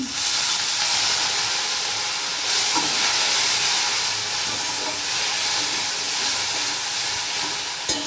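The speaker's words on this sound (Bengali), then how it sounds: "যাতে পুড়ে না যায় আমি একটু জল দিয়েছি।" Water poured into a hot pan of Bengali egg curry hisses in a steady, loud sizzle that holds for about eight seconds with no talking.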